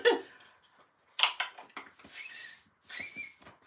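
Breath blown into an empty small cardboard candy box makes two clear, high whistles, each lasting about half a second. Soft breathy puffs and rustles come before them, and no voices are heard.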